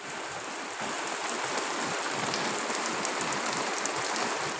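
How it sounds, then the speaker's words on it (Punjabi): Rain falling outside on a long-awaited rainy day, a steady close hiss of drops pattering on surfaces, continuous and even throughout with no voices. "بارش ਹੋ ਰਹੀ ਆ ਬਹੁਤ ਦਿਨਾਂ ਬਾਅਦ ਅੱਜ ਮੀਂਹ ਪਿਆ"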